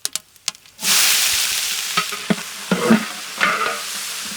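Onions and spices dropped into hot oil: a few light clinks, then a sudden loud sizzle that keeps crackling, broken by stirring scrapes, close up with no talking.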